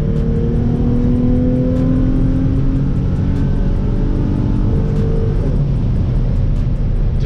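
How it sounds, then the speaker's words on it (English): Infiniti G35 coupe engine with headers, steady loud drone with rising and falling revs as it takes a corner at speed and blips the throttle to rev match, recorded from inside the car without talk. "That rev match sounds so good."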